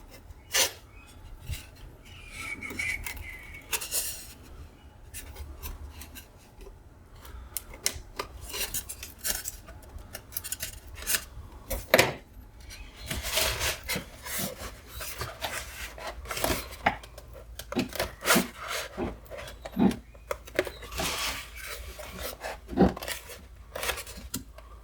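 Material is trimmed off a model aircraft wing part in close, irregular bursts of cutting and scraping, with sharp snips and rasping strokes repeating throughout.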